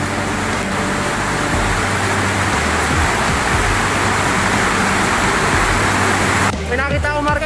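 Heavy rain pours down steadily during a Yamashita treasure recovery dig, a loud dense wash of noise throughout that cuts off near the end, where a voice speaks briefly.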